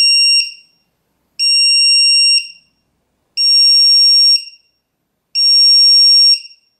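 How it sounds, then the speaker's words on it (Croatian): Lost-plane finder buzzer on an RC aircraft sounds four loud, shrill beeps, each about a second long, evenly spaced by pauses, close and alone with no talk. "dovoljno je ne dirati palice i on će početi pištati"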